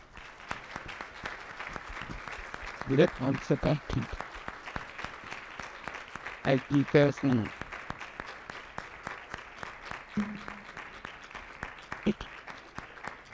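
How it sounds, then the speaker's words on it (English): Scattered applause and cheering from a summit audience after a panel discussion, with clapping throughout and a few voices rising above it at times. "I would love everyone to join me for a round of applause."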